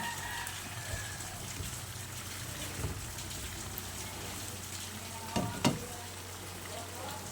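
Lumpia fry in hot oil with a soft, steady sizzle, fairly quiet, with a couple of brief clatters near the end and no voices.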